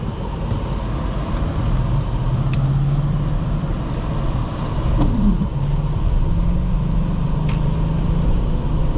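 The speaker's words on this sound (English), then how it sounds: "Just a little bit on the gas and you're up and running." A 2001 BMW X5 4.4i drives along a road with a steady engine drone and road noise, the engine note rising slightly as it pulls away, heard from inside the cabin.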